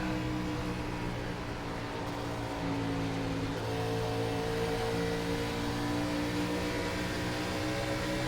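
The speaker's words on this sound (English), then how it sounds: "I know that engine sounds are good, but I feel like this one's getting a little loud." A NASCAR Gen 4 stock car engine in the iRacing video game drones loud and steady at high revs through the whole stretch, its pitch shifting slightly, with no talking.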